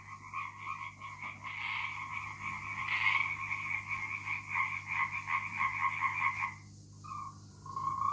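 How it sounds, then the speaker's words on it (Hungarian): A tree frog calls in a rapid, continuous rattling chorus of croaks, steady and fairly close, breaking off briefly near the end before resuming. "Ez a zöld leveli béka, biztos ismeritek, nagyon cuki,"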